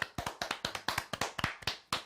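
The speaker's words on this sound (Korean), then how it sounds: "박수." Sharp hand claps ring out one after another, about ten crisp, close claps in a slightly uneven rhythm, each with a quick decay, during a live broadcast with no talk over them.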